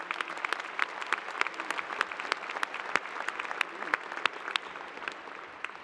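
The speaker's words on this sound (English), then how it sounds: "I think you all deserve a great big round of applause." Graduation ceremony audience at a university fall commencement claps in a large hall, a sparse crackle of individual hand claps with distinct sharp pops rising over a steady background of applause.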